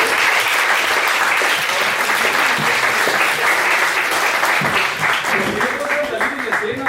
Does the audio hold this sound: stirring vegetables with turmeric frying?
no